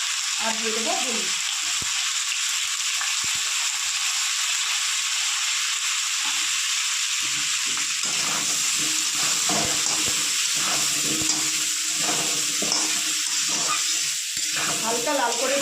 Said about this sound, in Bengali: হালকা লাল করে ভেজে নেওয়ার পর মশলা হালকা লাল করে ভেজে নিয়েছি।